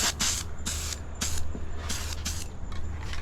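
A Krylon spray paint can hisses in short close bursts, about seven sprays of varying length separated by brief gaps, with no talking.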